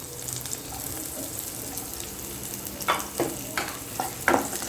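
Chopped garlic and green chili sautéing in oil in a pan, with a soft steady sizzle and a few scraping stirs toward the end, close by.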